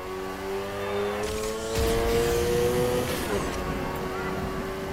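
A car slides through a drift in the Need for Speed Heat racing game, its engine note rising and falling with the tyres squealing, under steady game sounds with a voice present.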